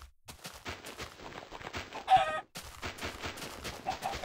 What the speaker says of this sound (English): See a chicken.